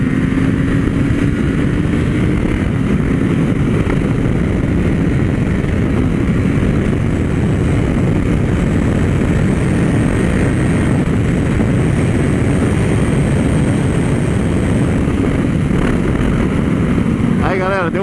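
A Honda CB1000R motorcycle roars steadily through its engine at close range during a test ride, a loud sustained drone with a rising whine, all of it masking the wind rush.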